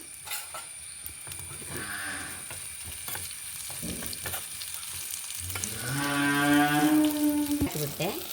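Crushed cumin and chili hit hot oil in a village-style tempering and give a close, bright sizzle and crackle that swells sharply in the second half, with some faint clatter before it.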